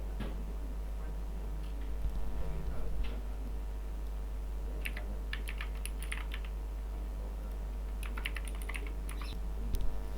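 Keys on a computer keyboard clatter in quick, uneven bursts as user data is typed in, with steady low hum beneath and no voices.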